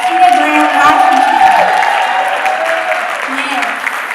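A Chicago audience gives a warm round of applause with some cheering, loud and dense at first, then tapering gradually while a voice speaks over it.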